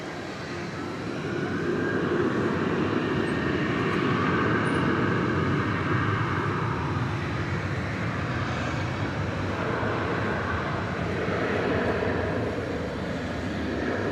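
An American airliner rolls down runway 18 left at DFW airport at night, a broad steady jet roar that builds and holds for several seconds, heard from a distance.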